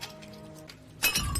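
A drinking glass hits the floor and breaks in a restaurant, a sudden loud crash and shatter with tinkling fragments after a quiet stretch of low room murmur.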